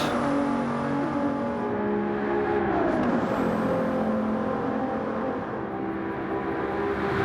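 Race cars from a racing league pass through a chicane, engines droning with falling pitch as they brake and sweep through, a steady loud mechanical whir without talk.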